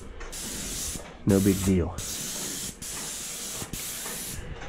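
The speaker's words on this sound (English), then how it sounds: "if I get a little paint on that one when I'm spraying this one" An airless paint sprayer hisses steadily while spraying cabinet doors laid out flat, the loud spray broken by brief trigger pauses, with someone talking briefly over it.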